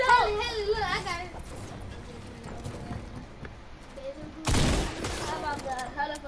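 Sniper gunfire in a video game comes as a loud, dense burst of shots midway through, with excited voices talking before and after it.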